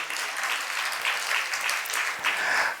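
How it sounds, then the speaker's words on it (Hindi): An audience at a religious discourse in a camp setting claps together, a dense, continuous patter of applause from a crowd heard at moderate distance, steady throughout without speech over it. "ताली बजा लो अपने लिए।"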